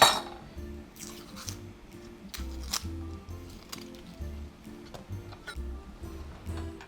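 A knife chops half of a large onion on a cutting board, giving irregular soft thuds and light clinks up close, with no talking.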